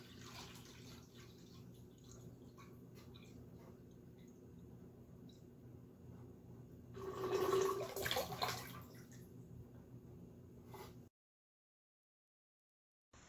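Water flowing through a homemade siphon tube into a container, a faint, steady trickle that swells into a brief louder gurgle and splash before fading, with no one speaking.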